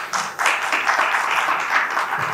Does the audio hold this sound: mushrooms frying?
no